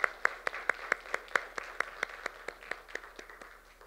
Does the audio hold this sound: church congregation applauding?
yes